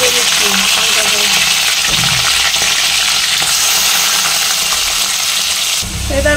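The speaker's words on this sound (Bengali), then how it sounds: "এবারে চিংড়ি মাছগুলোকে একটু ভেজে দিচ্ছি হালকা করে।" Shrimp frying lightly in hot oil in a wok, a loud steady sizzle and crackle close up throughout, with a few soft thumps of stirring.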